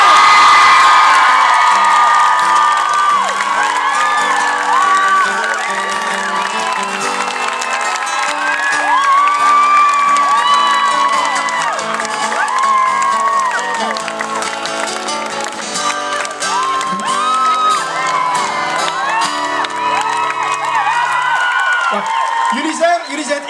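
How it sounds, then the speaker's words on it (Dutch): A Dutch television studio audience, with children among them, cheers, whoops and applauds loudly as a family with their kids comes on stage, the crowd noise sustained throughout under music. "Dames en heren, een geweldig applaus voor Julia, Swap, Pauline, Katrien en"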